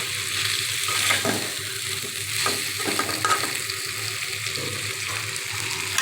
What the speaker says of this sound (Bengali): এখন আমি ঝোল বা পানি একবারেই দিয়ে দেব আর মাখা মাখা করে রান্না করব